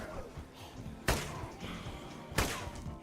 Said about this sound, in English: You heard that, right? Gunfire.